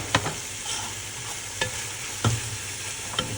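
Tomatoes frying in a salted pan and being stirred, with a steady sizzle broken by several sharp scraping strokes of the spoon at irregular intervals. No one speaks.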